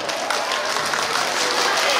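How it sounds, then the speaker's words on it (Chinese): Parents and guests applaud young graduates at a kindergarten graduation ceremony, a thick continuous wash of clapping from a crowd indoors that stays even and loud throughout. "再给他们拍拍手"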